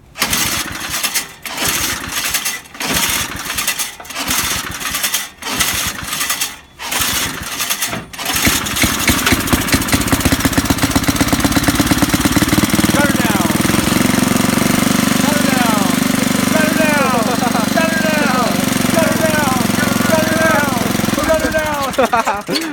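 An old Briggs and Stratton engine with freshly filed points is pulled over with several rhythmic cranking bursts, then catches and runs loud and steady close by, with a voice speaking over the roar before it cuts off near the end.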